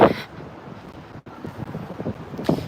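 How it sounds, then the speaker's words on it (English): Gusty wind in downtown Toronto buffets the microphone in low rumbling bursts, with a brief dropout midway and stronger gusts at the start and end. "it did just randomly get super overcast and windy again"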